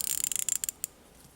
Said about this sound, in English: Checking resistance of the 1/4 inch ratchets.